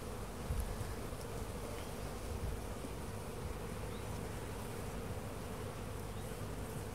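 A dense, steady hum of many honeybees buzzing in an open hive during inspection, continuous and close, with no voices.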